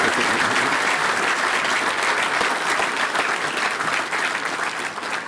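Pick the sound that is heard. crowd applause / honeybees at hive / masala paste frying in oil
crowd applause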